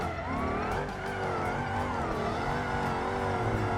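A powerful car engine in the BeamNG driving game revs hard and accelerates, a loud continuous roar with shifting pitch that holds steady throughout.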